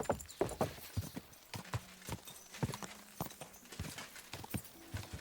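Horse hooves clip-clop in Kingdom Come: Deliverance 2 in a quick, uneven trotting rhythm, fairly close and moderately loud, with no talking.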